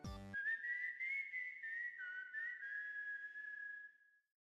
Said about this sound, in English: Whistling a tune, he's there.